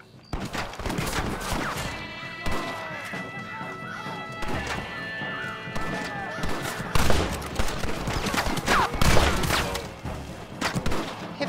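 Gunfire rattles through a frontier battle in Red Dead Redemption, with repeated shots and crashes over a dense score, voices shouting, and a horse whinnying amid the fray; intensity builds toward the end.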